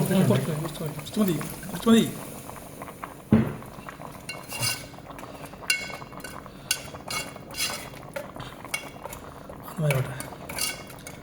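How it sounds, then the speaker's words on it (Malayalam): Clattering of utensils against a pan of fish curry masala with a brief splash of water being poured in, close by, while a voice talks over the kitchen noise. "അതിനാവശ്യമുള്ള വെള്ളം ഒഴിച്ചു കൊടുക്കാം കേട്ടോ."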